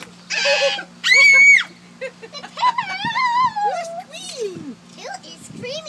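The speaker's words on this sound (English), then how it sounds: "Who is screaming here?" Children on a home patio shriek and squeal in short, high bursts, one loud sustained scream near the start, then wavering cries and chatter mixed with a dog-like whimper, all close by.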